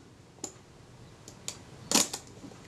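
Shutter release and film advance of a Retina Reflex type 025 camera with a faulty shutter release: a few sparse mechanical clicks, then a sharper, louder snap near the end followed by one more small click, close and alone.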